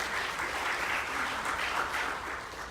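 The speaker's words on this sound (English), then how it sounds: "Have another round of applause for TJ" Audience applause for a speaker at an Iowa Department of Public Health event on addiction and mental illness, a steady, even wash of clapping from a crowd that continues throughout.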